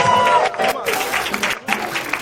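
A standing congregation at a community union gathering claps and cheers in praise to God, producing a brief burst of crowd applause mixed with raised shouts and high, wavering voices.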